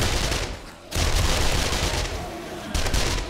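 Rapid gunfire from shooting zombies in the 7 Days To Die video game, loud sustained bursts with a brief lull before firing resumes, then another burst near the end.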